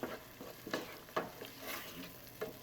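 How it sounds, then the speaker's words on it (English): Quiet sizzling of butter and green peppers in a pan for a corn casserole, with a few soft stirring scrapes over a steady frying hiss. "hear the sounds of the butter and the green peppers"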